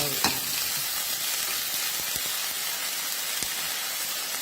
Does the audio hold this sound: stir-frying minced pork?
yes